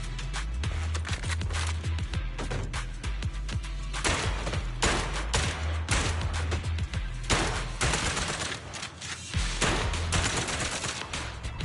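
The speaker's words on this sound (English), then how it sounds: "I shoot a civilian!" Loud, rapid bursts of gunfire from Zenless Zone Zero fill the scene, with repeated volleys and short gaps over a steady thumping low backing track.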